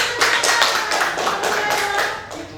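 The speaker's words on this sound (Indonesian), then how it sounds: "Kasih tepuk tangan." Classroom of students clapping hands during a lesson, a short burst of rapid, fairly close claps at steady loudness that fades slightly at the end.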